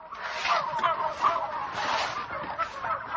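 A flock of antibiotic-free farm turkeys in Pennsylvania gobbles and calls over one another in a continuous, busy chorus, fairly close and loud.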